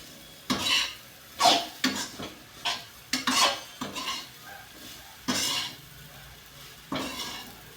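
Metal spoon scraping and stirring chivda made from leftover flatbread in a pan, a series of about ten distinct scrapes and knocks at an irregular rhythm, close and fairly loud, with faint frying beneath and no talk.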